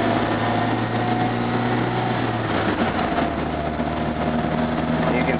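An MGB car engine hums steadily as its revs rise under gentle, light-throttle acceleration on flat road, a loud, continuous low drone with a faint shift in pitch midway.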